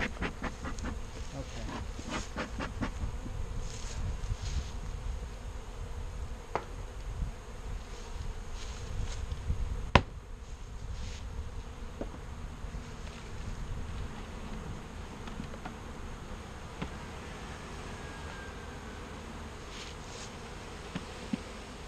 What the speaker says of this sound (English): These bees are a little crazy.